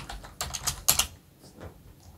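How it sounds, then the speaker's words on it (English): Quick bursts of keystrokes on a computer keyboard, close and crisp, a flurry of clacks in the first second followed by a few softer taps, no speech. "we're just going to type in OBS project"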